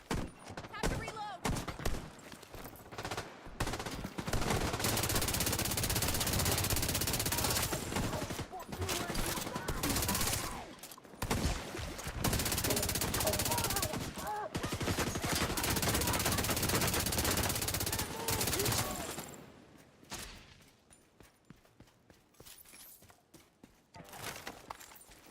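Automatic gunfire in the video game Dune Awakening comes in long, loud, dense bursts separated by short gaps, with the shooting thinning out toward the end. Players talk over it.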